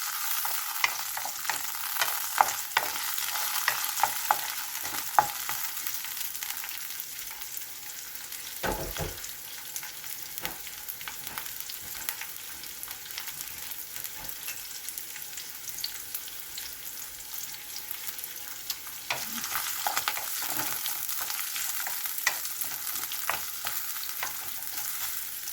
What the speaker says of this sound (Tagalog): So, ilagay ko yung sibuyas at chili